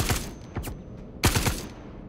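Several sharp gunshots in Star Citizen ring out in short bursts, a few isolated cracks followed by a rapid cluster of shots, each with a brief echoing tail.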